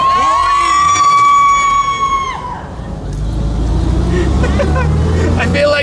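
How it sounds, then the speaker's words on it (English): A noisy outdoor crowd at the Mille Miglia 2018 classic car race chatters and calls out over a steady background roar, with a sustained horn-like tone early on. "This then is the crowd of people from the car park to the start line."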